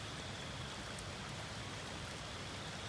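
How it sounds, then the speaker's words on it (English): Steady, dense rain hissing without a break, a broad wash of pattering drops with no voices. "Then the rain came."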